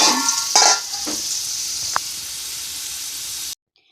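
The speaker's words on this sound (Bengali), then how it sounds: "এখানে আলু কষা হচ্ছে তো দেখো আলু কষা হচ্ছে" Potatoes sauté in a hot pan with a steady loud sizzle, broken by a few stirring scrapes near the start, before cutting off abruptly.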